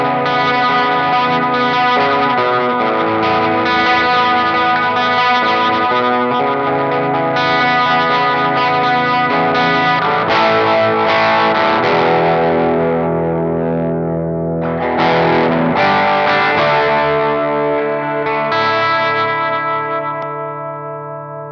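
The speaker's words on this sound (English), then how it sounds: "I'll turn the overdrive on so you can hear just some edge" Electric guitar played through a Blackstar amp with light overdrive at the edge of breakup, gritty chords and notes ringing out loud and alone with a slightly crunchy edge.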